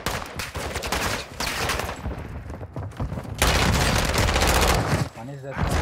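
Rapid automatic gunfire in Call of Duty DMZ, dense bursts and booms filling most of the stretch, with a short lull before a louder sustained volley and a player's voice calling out over the shooting.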